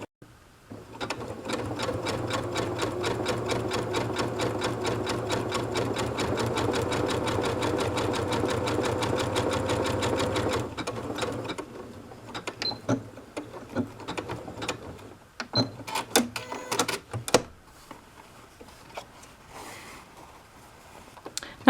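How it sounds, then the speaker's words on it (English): A sewing machine stitches fabric for a fabric collage, a steady close rattling hum for about ten seconds, then scattered handling clicks and rustles as the cloth is moved. "I'm just going to sew a little bit of this, and then I'm going to do the rest of it off camera."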